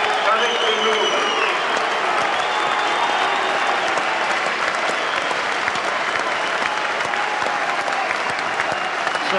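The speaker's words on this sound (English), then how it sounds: "Now a round of applause for a game that did so much this afternoon." A big crowd applauds steadily at the 1989–90 Yorkshire Cup Final, a rugby league match between Bradford Northern and Featherstone Rovers. Dense, loud clapping runs without a break for the whole stretch, with a voice talking over it.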